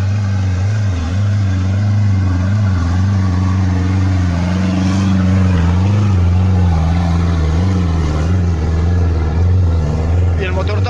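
Engine of an off-road 4x4 vehicle, loud and close, holding a steady deep drone with slight rises in revs, while voices talk over it.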